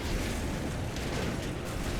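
Explosion in Red Faction Guerrilla: a quiet, broad rumbling roar of debris and blast noise fills the short stretch evenly, with no distinct peak and no voices.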